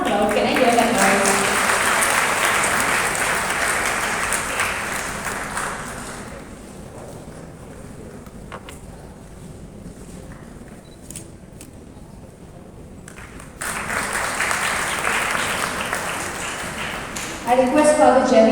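A crowd at a school inclusion event claps loudly for several seconds, fades to quiet with scattered claps, then bursts into applause again near the end, with a voice briefly heard.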